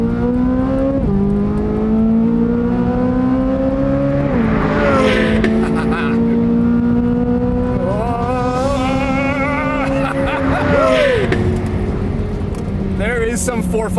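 A 2023 Corvette Z06 V8 winds up hard on track, its high-pitched, ferocious engine note climbing through the revs in long sweeps with brief drops at gearshifts, loud and close throughout.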